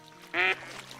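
A single loud, close duck quack bursts out briefly near a duck blind during a hunt, standing alone over a quiet background.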